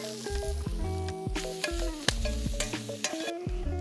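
Bacon renders its fat in a pan with a loud, continuous crackling sizzle, close up, broken by repeated spatters and pops, alone without talk.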